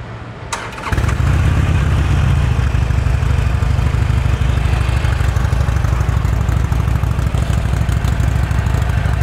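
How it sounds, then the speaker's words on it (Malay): At KL Bike Week 2025 in Kuala Lumpur, a motorcycle engine starts up after a brief pause, then idles loudly and steadily with a deep, continuous rumble. "Belanja sikit, bunyi motor macam mana."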